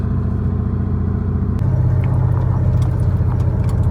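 Heavy truck hauling a load of sugar beet toward a sugar factory for unloading in Ternopil region, Ukraine; a steady loud low engine drone and road rumble continue throughout, with a gear or load change partway through.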